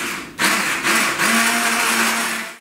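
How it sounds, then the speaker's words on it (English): A hand blender whirs loudly and steadily as it mixes cream and white chocolate, its motor pitch shifting slightly as it churns, with brief pauses between bursts. "then just use a normal hand blender"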